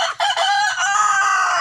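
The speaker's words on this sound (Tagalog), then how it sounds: "Native chicken." A native chicken rooster crows one full, loud cock-a-doodle-doo, close by and clear with no talk over it, lasting under two seconds.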